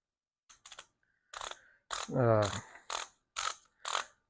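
A torque wrench ratcheting as it tightens small engine valve bolts, several short bursts of close, crisp clicking separated by pauses, with one longer ratchet run in the middle.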